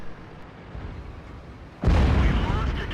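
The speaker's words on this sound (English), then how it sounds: "Artillery hits him." An artillery shell explodes in World of Tanks, a sudden loud close boom that cuts in midway over a low rumbling battle background, with lingering roar afterward.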